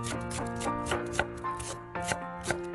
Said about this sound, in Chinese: 再切成小碎丁。